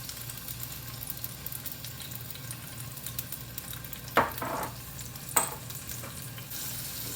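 Garlic and ginger hit hot sesame oil in a pan, giving a steady low sizzle with a couple of sharper bursts of crackle and stirring partway through, with no talking.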